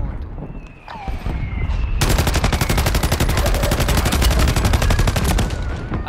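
Sniper fire and rapid gunfire in a Call of Duty match, first a quieter stretch with a voice, then a loud, sustained burst of dense repeated shots that continues to the end.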